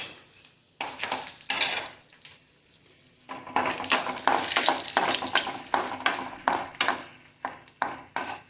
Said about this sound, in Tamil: இப்போது ஒரு 6-7 வத்த மிளகா வச்சுருக்கேன், அதை வறுத்துக்கலாம்